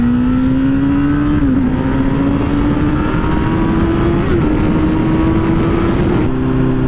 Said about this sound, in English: So if you whack the throttle wide open, the bike knows you're asking for power,